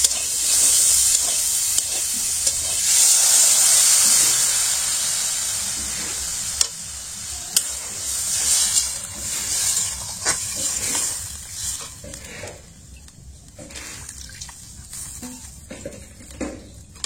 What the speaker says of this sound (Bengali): ডাটা আলু বেগুন ভালো করে ভেজে নিলাম